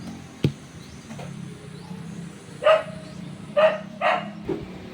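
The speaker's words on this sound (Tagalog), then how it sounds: "Ingay-ingay ng mga aso." A few dog barks sound at a moderate distance, spaced irregularly, over a faint insect-like hum and quiet background noise.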